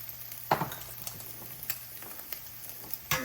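Egg fried rice ingredients fry in a pan, giving a soft sizzle with scattered stirring scrapes and utensil clinks at irregular moments over a low steady hum.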